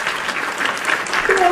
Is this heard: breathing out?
no